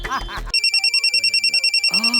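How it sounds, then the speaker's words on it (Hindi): A voice speaks briefly, then a telephone rings with a rapid repeating electronic trill while other voices talk quietly underneath. "बॉस, फोन बजा।"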